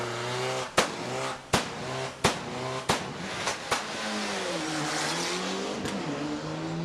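A race car at the start line of a hill-climb event blasts out a series of loud, sharp revs and bangs roughly once a second, then settles into a sustained engine roar close by.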